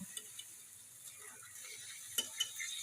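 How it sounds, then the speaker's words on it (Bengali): Rice and lentils fried and stirred in a pan with mutton fat for khichuri, a faint continuous sizzle with a few soft clinks and scrapes of the spoon. "দিয়ে আমি আবারও ভালোভাবে চালটা ভেজে নেব।"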